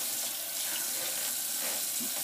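Water runs steadily from a tap into a sink, a continuous hissing splash heard close and alone for a couple of seconds.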